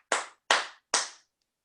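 Three single, sharp claps spaced evenly about half a second apart, each ringing briefly, played as participation cues before a singalong of The Wild Rover at a St Patrick's Day Rotary club gathering.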